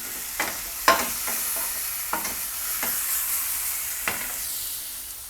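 Chicken steak fries in a pan with a soft, steady sizzle and hiss, broken by several sharp clinks and scrapes from stirring or turning the meat.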